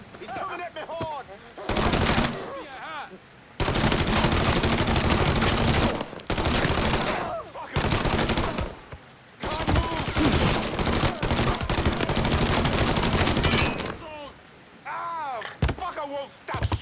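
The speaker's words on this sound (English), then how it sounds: "Won't stop shooting." Gunfire in the video game Mafia 3 comes in long, loud automatic bursts separated by short pauses, with someone talking between the volleys.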